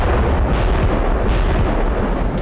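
A Russian FAB-3000 bomb strikes Vovchansk, Ukraine, with a heavy, continuous roaring rumble that stays loud and dense throughout, without a distinct single blast.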